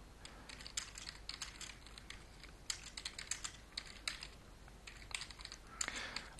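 Typing on a computer keyboard while entering a question into a Python Magic 8 Ball program, with quiet, close key clicks in irregular bursts, alone without talk.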